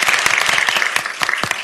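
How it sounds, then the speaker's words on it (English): Brief, loud applause at a city council meeting for a panel, close clapping from many hands with a few sharper individual claps. "So let's give them a round of applause."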